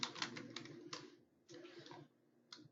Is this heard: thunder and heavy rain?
no